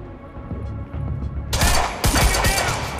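Sudden burst of rapid gunfire from Monarch soldiers in Quantum Break, erupting loud and close after a quieter stretch, with sharp cracks and thuds repeating for about a second and a half.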